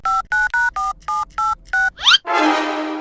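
Telephone keypad tones sound in a comedy cartoon: eight short, evenly spaced beeps as a number is dialed, followed by a rising chirp and a burst of connection noise.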